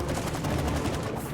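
Rapid automatic gunfire in the It Takes Two video game, a dense burst of repeated shots filling a short moment at moderate loudness, with no voices.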